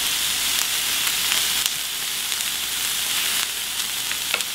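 Bell peppers fry for chicken fajitas in a pan, a loud continuous hiss of sizzling oil dotted with small pops and crackles, without any speech.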